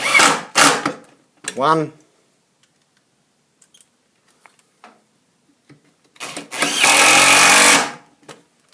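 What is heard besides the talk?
driver drill driving screws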